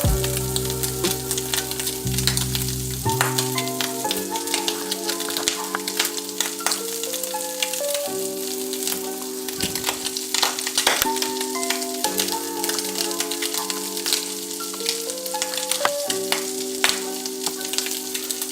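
Breakfast sandwich filling frying in a pan, a crackling sizzle with scattered pops, partly masked by background music.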